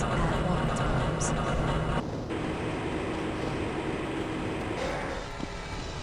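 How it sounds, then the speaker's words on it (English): A Half-Life: Blue Shift tram train rolls along its track with a loud, steady rumbling drone and a brief shift partway through, while an announcer voice talks over it. "This train is inbound from the Area 8 topside dormitories to the Central Transit Hub in Area 9."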